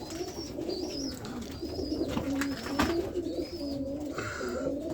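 Roller pigeons in a loft cooing repeatedly, several soft rolling coos close by over a steady background murmur, with no talk.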